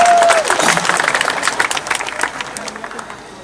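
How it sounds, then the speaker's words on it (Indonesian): An audience at a South Kalimantan cultural-park event claps for the province: dense, lively applause that begins loud and gradually tapers off over a few seconds. "Tepuk tangan untuk Kalimantan Selatan."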